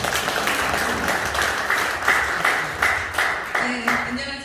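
Audience applause at a regular general meeting welcoming a lawyer, moderate clapping from a crowd that holds steady, with a voice speaking over it near the end.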